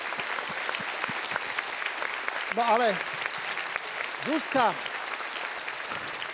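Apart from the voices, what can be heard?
studio audience applause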